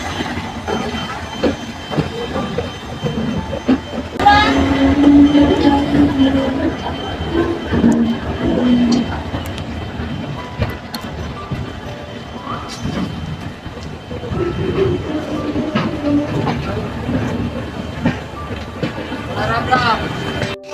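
Riding aboard the Barbil Jan Shatabdi, hauled by a WAP4 electric locomotive on the route from Kolkata toward Ghatshila, including a curved bridge: a steady rumble of rolling wheels and clatter, with people talking over it.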